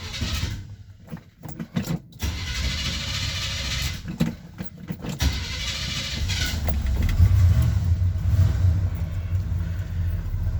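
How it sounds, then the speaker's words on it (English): A 1978 GMC C15 pickup truck is started from cold, with several bursts of cranking and stuttering before the engine catches and settles into a steady, rumbling idle nearby. "Okay, let's see how well it starts."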